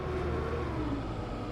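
Combine harvester engine in Farming Simulator 22 during harvest, a steady low droning hum with a faint whine, constant and unbroken throughout.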